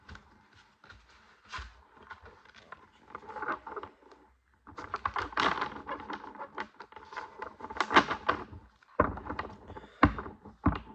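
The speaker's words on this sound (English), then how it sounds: "I'm gonna shuffle it once more." Playing or tarot-style cards are shuffled by hand in repeated quick bursts of papery riffling and soft slaps, close and intimate, with brief pauses between rounds and no talking.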